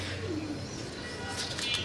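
A pigeon coos low and soft among leafy greens such as Malabar spinach in a home garden, with faint chirps near the end over steady background noise.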